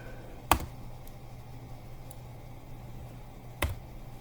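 A computer mouse clicks and the Enter key is pressed, giving two sharp, isolated clicks about three seconds apart over a faint low hum.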